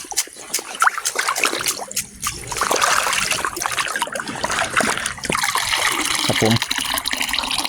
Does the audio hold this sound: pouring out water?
yes